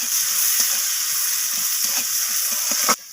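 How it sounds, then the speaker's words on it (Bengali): Chopped onions frying in oil in a pan, a loud, steady hiss and sizzle close up, with soft stirring knocks underneath, cutting off abruptly near the end. "পেঁয়াজগুলোকে আমি লালচে রং করে একটু ভেজে নেব"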